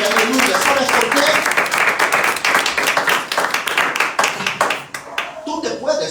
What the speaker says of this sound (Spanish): Dale palmas a aquel que vive